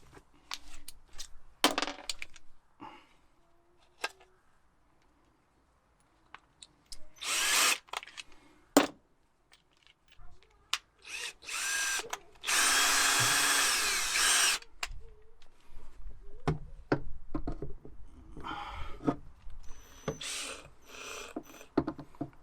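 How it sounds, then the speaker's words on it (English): Power drill boring a hole for a new fuel line on a Chinese diesel heater install in a VW T4, in short bursts with a longer steady whine near the middle, plus clattering handling noises between runs. "we can drill a hole in it and put my new fuel line in"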